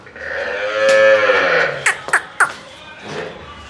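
A Gir cross cow at a cattle sale in Hyderabad gives one long, loud, drawn-out moo, followed by a few shorter, sharper calls and a softer final low.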